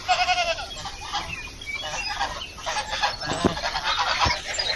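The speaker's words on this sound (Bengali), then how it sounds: "মুরগিগুলোকে আমি দেখতে পাই আমাদেরকে ভয়ে পালাচ্ছে" Chickens on a farm that also keeps ducks, geese and goats cluck and squawk in scattered bursts close by, with fluttering noise and other farmyard sounds continuing throughout.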